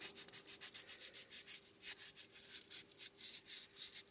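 Old, worn-out sandpaper rubbed over an upcycled mixed-media bracelet in quick back-and-forth strokes, a steady rhythmic scratching that continues for several seconds without any talking.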